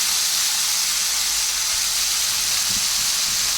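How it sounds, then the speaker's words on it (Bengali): Vegetables fry steadily in a pan, a constant broad hiss and sizzle of hot oil with no pauses, close and fairly loud throughout. "এইভাবে ভেজে নেব"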